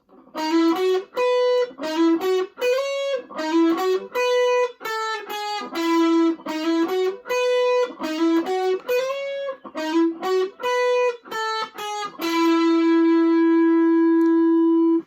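A distorted electric guitar plays a fast melodic run of short repeated notes, ending on a long sustained note that rings out.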